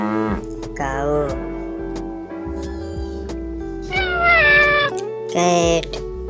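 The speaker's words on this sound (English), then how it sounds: "cat" A cat meows three times in short, rising cries, each separate and clear, above steady background music.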